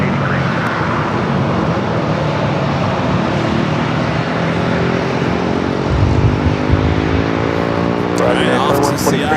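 An airliner rolls for takeoff at San Diego airport with a loud, sustained engine roar that holds steady and builds slightly toward the end, with radio chatter overlaid.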